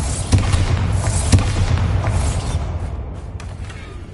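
A Bombarda explosion spell from the game Hogwarts Legacy goes off as two sharp, booming blasts close together near the start. Rumbling, crackling debris and mechanical clatter follow and fade out.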